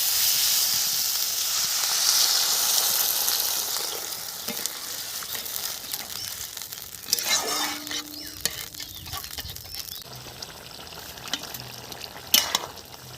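Water poured into fried spice paste with tomato in a hot pan for a catla fish head curry, a loud steady sizzle that fades into softer bubbling, broken by a few stirring clatters; no one speaks.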